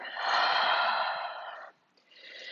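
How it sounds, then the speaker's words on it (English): A long, breathy exhale during a fast-flow vinyasa yoga session, close and alone, then a brief pause before the next breath starts. "Breathe in and breathe out."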